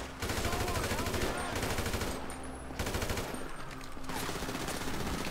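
Gunfire in Grand Theft Auto on PS4 comes in rapid bursts of shots, loud and close, with short breaks between volleys.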